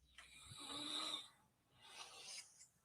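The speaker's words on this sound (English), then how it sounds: "You're hearing a woman snoring in a clip from a live stream" Soft breathy snoring, two drawn-out raspy breaths with a pause between, quiet and close.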